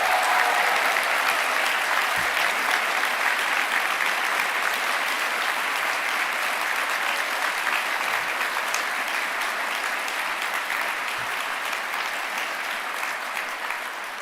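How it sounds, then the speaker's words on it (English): A large audience applauds graduates at a university winter graduation ceremony in a hall. The clapping is dense, sustained and even for the whole stretch, fading slightly toward the end. "please give them a big round of applause"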